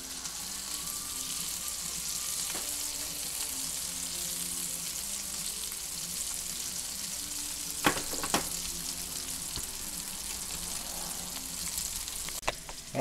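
Homemade meatballs browning in a frying pan, a steady close sizzle and crackle throughout, with a few sharp clinks of a utensil against the pan near the end.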